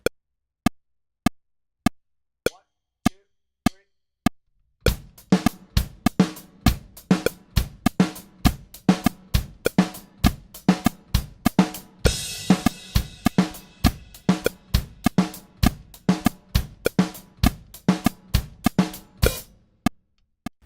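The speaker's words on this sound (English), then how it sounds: "we're going to go alternate between kick and snare" Drum kit groove of alternating kick and snare accents over steady eighth-note hi-hat, an implied 3/16 metric modulation pattern; a few sparse clicks open before the full beat enters, then it runs crisp and close with no talking.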